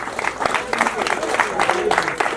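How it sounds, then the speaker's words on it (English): Audience applause for a standing ovation after the welcome of a Chancellor and a Minister of Science and Technology at a Busitema University event: dense, steady clapping from a crowd, with voices mixed into it. "Thank you for that standing ovation."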